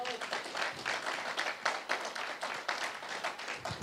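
A church congregation breaks into steady, fairly loud applause during a Spanish-language sermon in Utah, with many hands clapping in an even, continuous patter.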